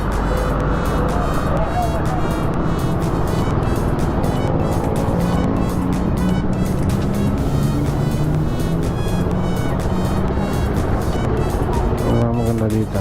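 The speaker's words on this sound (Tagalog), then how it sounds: "Traffic." Dense road traffic on a busy highway in the Philippines, running from Naic to Tejero on Valentine's Day: a loud, steady roar of cars passing close by with continuous engine and tire noise, and voices faintly under it.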